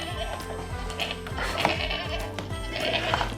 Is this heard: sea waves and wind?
no